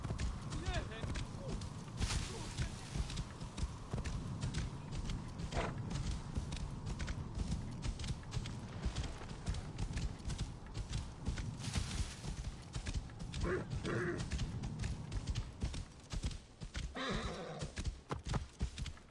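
Horse hooves clip-clop steadily in Assassin's Creed Origins, with occasional neighs and whinnies among game ambience while someone talks over it.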